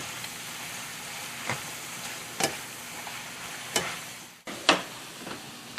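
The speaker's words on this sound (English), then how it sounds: "we're going to let this cook and wilt in the frying pan for roughly a minute or two" Thick bacon slices and spinach frying in a pan, giving a steady soft sizzle with a few sharp crackles and utensil scrapes, no talking.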